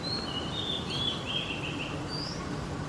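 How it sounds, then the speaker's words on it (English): Birds sing outdoors in the late afternoon near sunset: thin, high twittering phrases, fairly faint, over a steady background hiss. "And you can hear the sounds of birds."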